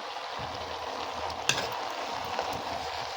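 Onions frying in a pan for an ivy gourd curry, a continuous close sizzle and bubbling with a couple of soft clinks from stirring.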